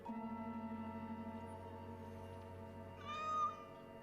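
A cat meows once near the end, a short, faint call rising over a steady low electrical hum that fills the rest of the moment.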